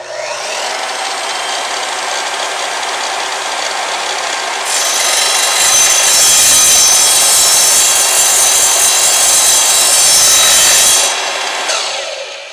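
An Evolution miter saw cutting a small piece of steel tubing, starting with a loud steady motor whine and rising into a harsh, bright grinding screech as the blade bites the metal for about six seconds, then spinning down.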